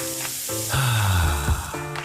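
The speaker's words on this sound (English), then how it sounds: "That's the sound of James adding long-lasting Gain scent boosters to his laundry this morning." Gain scent booster beads are poured into laundry as a short advert sound effect: a bright rattling pour with a sweeping tonal swoosh, loud and close, about two seconds long.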